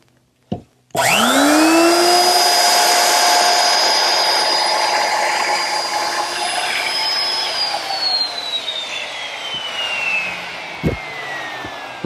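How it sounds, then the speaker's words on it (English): Router fitted with a 1/4-inch rounding-over bit milling the edge of a redwood arch, spinning up with a loud rising whine that holds steady, then winds down, preceded by a sharp click. "I can ease the corners using a 1/4-inch rounding over bit."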